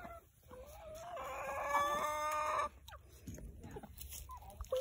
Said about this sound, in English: We got all the chickens here.